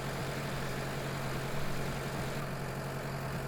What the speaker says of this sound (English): So, being as this is a 94 horsepower tractor